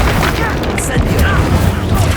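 A fire spell bursts with a dense roaring whoosh and crackle in Hogwarts Legacy, loud and sustained for a couple of seconds, with voice sounds mixed into the blast.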